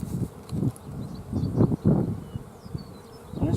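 Honey bees buzz steadily around a hive frame freshly filled with bees and a queen cell, a dense close drone that swells and dips in waves with no talk over it.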